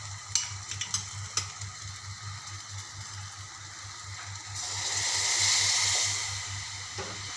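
Cooked toor dal poured into a hot tempering for amti, with a few sharp clinks and stirring, then a rising hiss of sizzling and steam that swells and fades, alone with no talk.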